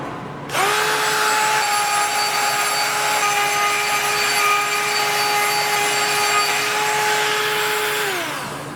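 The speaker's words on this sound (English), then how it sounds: "What I'm gonna try to do is basically file or sand this part down." A brake rotor being ground down with a power tool to make it fit, a steady continuous whine with a sustained tone running nearly the whole time, close and loud, with no talking.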